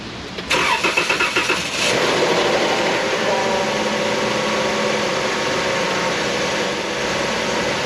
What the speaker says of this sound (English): restarting the engine